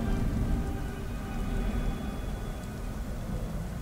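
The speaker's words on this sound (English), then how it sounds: "God damn rain." Steady rain falls in the Beyond Two Souls video game, a dense, even hiss of drops that holds at a constant level throughout, with no talk.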